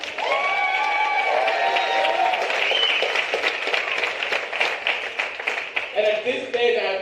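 A comedy club audience claps and applauds steadily for several seconds, a dense patter of hands with a few higher cheers, thinning out toward the end.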